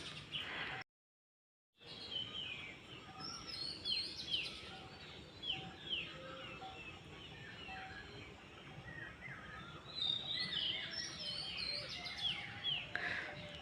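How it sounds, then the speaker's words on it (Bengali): Many birds chirp and call at dawn in a rural village, forming a steady, moderately distant chorus of overlapping tweets that drops out briefly near the start. "আর চারিদিকে দেখো কত পাখির আওয়াজ।"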